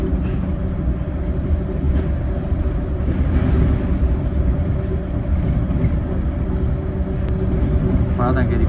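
Cars pass in a steady, loud stream of traffic rumble at a street crossing in Odaiba, Tokyo.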